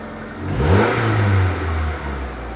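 A Ford Puma Millennium car with a fuel system fault starting up, the engine catching with a rising rev then settling into a steady, loud running drone close by.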